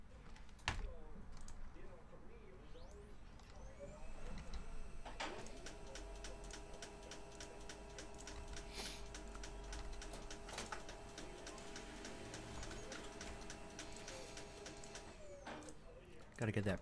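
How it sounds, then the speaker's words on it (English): A printer runs through a print job during a baseball card break, giving a steady mechanical whir with fine rapid ticking that holds for about ten seconds after a short start. "Got to get that printer checked out."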